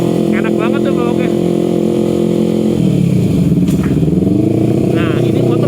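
Yamaha R25 sport motorcycle engine idling steadily with a deeper throb partway through, continuous and fairly loud beneath someone talking.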